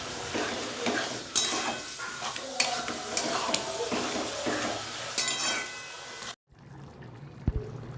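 A spatula stirs Lotte fish curry in a sizzling pan, giving repeated metallic scrapes and knocks over a steady fry before a sudden stop and one last clink.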